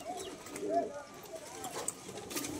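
Madrasi pigeons of an old Kaldom/Nafta bloodline cooing softly in a loft, a few low murmuring coos repeating close by over a faint background hum.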